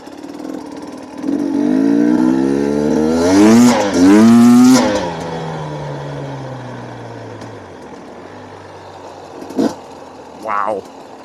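A Kawasaki street motorcycle revs up and pulls away nearby, engine note rising through gears and then fading off, followed by quieter background and a couple of brief sharp noises.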